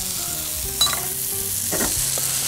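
Grill sausage frying in a little oil on a steel griddle plate, a steady low sizzle running throughout with a couple of brief louder crackles and stirring scrapes, close by and with no talking.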